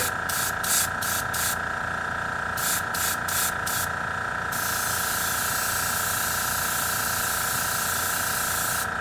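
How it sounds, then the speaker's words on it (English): An airbrush sprays paint onto cotton to make a miniature smoke effect: a strong, close hiss that comes in short rhythmic bursts at first, then runs as one continuous spray. "So I bring my airbrush way back"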